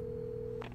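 Telephone dialing in Alan Wake, a steady keypad tone held briefly and then a quick burst of short dial beeps, quiet and clean with nothing else over it.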